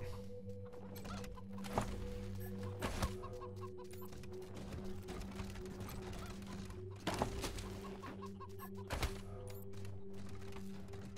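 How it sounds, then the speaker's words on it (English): Chickens cluck in Wasteland 3, with soft scattered bird calls over a steady game ambience hum and a few sharp clicks and thumps throughout. "A lot of chickens around here."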